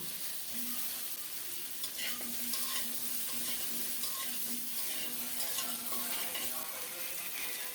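Cumin seeds and cauliflower fry in a small amount of oil left from frying fish, a steady close sizzle with bursts of crackling and occasional stirring scrapes, and no voices.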